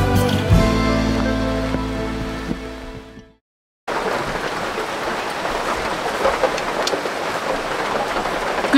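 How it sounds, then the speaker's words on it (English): Steady rain falls on an island, a dense even wash of drops heard up close; it follows a stretch of tonal sound that fades out into a brief silence before the rain begins. "May not look like it because it's raining"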